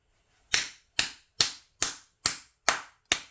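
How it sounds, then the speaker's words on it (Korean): Seven sharp, evenly spaced hand claps ring out close and loud in a quiet room, each with a short decaying tail. "제가 요 박수를 치면"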